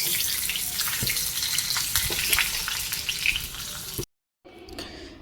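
Cumin seeds fry in a hot pan with a close, continuous sizzling crackle that stops abruptly near the end, then resumes more faintly after a short silence.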